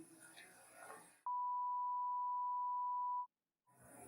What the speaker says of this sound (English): Listen to this sine wave.